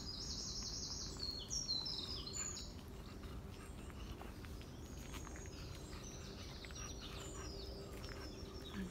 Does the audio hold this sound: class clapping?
no